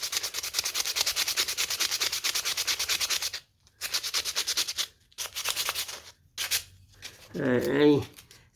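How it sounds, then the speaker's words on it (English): Sandpaper rubs rapidly back and forth over a small carved cedar wood cat in a wood shop, with bursts of rhythmic close scratching separated by brief pauses, and a voice at the end. "Maybe I'll take it out a little bit with the sandpaper."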